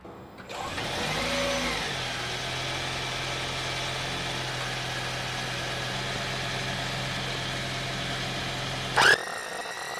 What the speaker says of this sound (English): Turn the car back on.